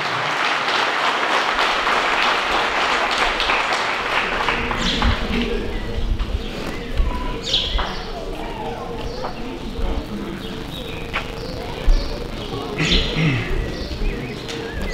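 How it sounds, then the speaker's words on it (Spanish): At an outdoor anniversary ceremony in a Mexican ejido community, the crowd gives steady, moderately loud applause for a welcoming speaker. The clapping thins into crowd murmur and voices while birds chirp and coo nearby. "Recibámoslo con un fuerte aplauso"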